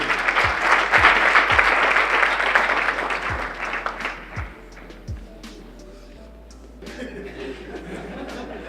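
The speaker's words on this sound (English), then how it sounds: "A round of applause, ladies and gentlemen" An audience at the Capital Market University Challenge 2018 awarding ceremony breaks into loud applause with some laughter that gradually thins and fades, leaving low murmurs and a few stray sounds near the end.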